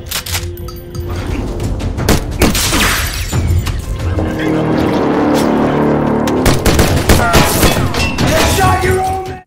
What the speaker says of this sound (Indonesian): Baku tembak pun tidak terhindarkan